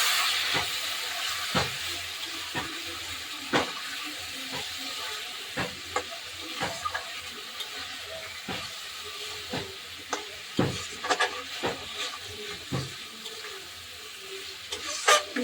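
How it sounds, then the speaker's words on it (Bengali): Masala sautéing in a pan after a splash of water for a catla fish curry with potato and cauliflower, a soft steady sizzle broken by repeated sharp spatula scrapes and taps, close and alone. "এখন একটু মশলাটা কষাতে একটু জল দিয়ে দিচ্ছি"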